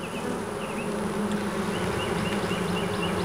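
Honey bees swarm and buzz around a wooden hive box, a dense, steady droning hum close by with occasional higher individual wingbeats passing, and no voices.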